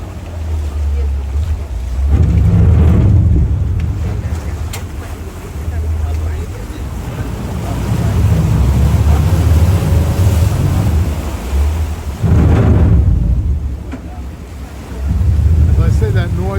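A Venice water bus on the Grand Canal near the Rialto stop churns its engine into reverse, a loud low rumble that surges in several heavy waves, with water wash and wind noise around it.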